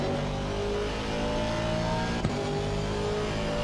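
Race car engine in a racing video game at Zandvoort, steady loud droning roar with layered harmonics as the car accelerates out of an inside line, a brief click near the middle, no talk.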